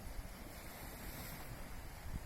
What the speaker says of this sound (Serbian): Veliki su talasi.